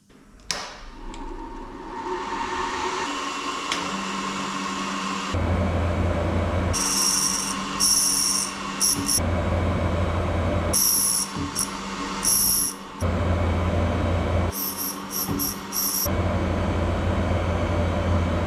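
A grinding wheel machine finishing the tip of a brass carburettor float needle for a Motobécane, a steady whirring motor drone with bursts of hissing abrasive grinding as the tip is pressed on, close and continuous.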